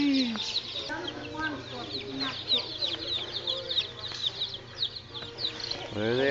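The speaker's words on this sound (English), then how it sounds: "So here are the chicks." A brooder full of baby chicks at a farm store keeps up a continuous chorus of high, overlapping peeps, moderately close, with a voice briefly heard near the end.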